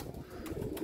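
A Teddy home-breed pigeon held in the hand gives soft, low cooing, faint and close, with a brief muffled flutter.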